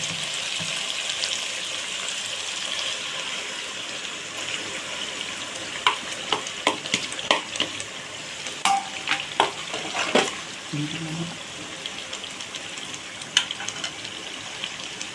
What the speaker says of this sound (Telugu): పచ్చివాసన పోయేంత వరకు కూడా బాగా ఫ్రై చేసేసుకున్నాం. అలాగే టమాటా పేస్ట్ అనేది కూడా వేసేస్తున్నాను.